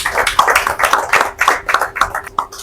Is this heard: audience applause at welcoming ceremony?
yes